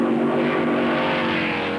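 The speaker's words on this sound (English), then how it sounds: "Hawthorne's Ferrari passed by the Maserati of Fangio." Vintage 1953 Grand Prix racing cars, a Ferrari and a Maserati, roar past at speed in a continuous loud engine drone with a steady pitch and no gaps.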